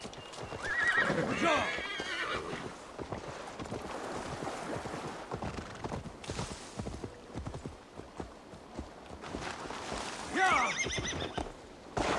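Rhythmic hoofbeats of a galloping horse in Assassin's Creed Valhalla on Xbox Series X, with loud neighs and whinnies near the start and end, over wind noise.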